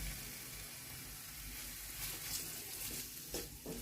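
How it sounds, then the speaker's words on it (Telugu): A spice paste of poppy seeds, cloves, cinnamon and cashews frying in a pan for a mushroom and drumstick curry, giving a steady close sizzle with soft stirring scrapes and no talking. "ఇవన్నీ పచ్చివాసన పోయేదాకా వేయించుకున్నాం"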